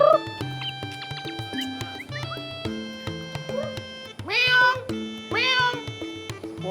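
A performer in a Betawi lenong comedy imitates a cat, giving a string of high, wavering meows with two long, loud drawn-out cries near the end, over a background of sustained tonal music.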